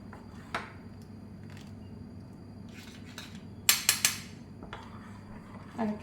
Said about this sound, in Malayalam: ചൂടോടെ തന്നെ ഒഴിച്ച് നന്നായി ഇളക്കി